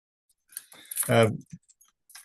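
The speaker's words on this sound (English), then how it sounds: "what you see here is the keys to the library at the Green Foundation" A bunch of keys to a foundation's library jangles in short, bright metallic bursts at close range, with a brief voiced sound partway through.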